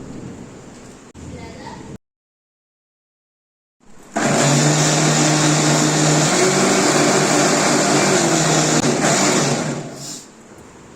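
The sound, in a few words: mixer grinder grinding cooked bottle gourd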